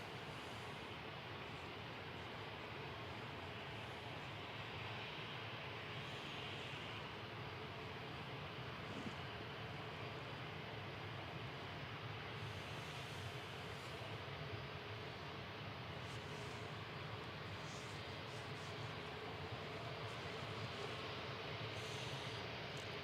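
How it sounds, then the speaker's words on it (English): An Air France Airbus A220 jet lands from Charles de Gaulle at Manchester Airport, a faint, steady distant engine rumble with a soft hiss that holds evenly throughout, no voices. "Coming over the threshold is the Air France A220 FHPNK with flight 1668 from Charles de Gaulle."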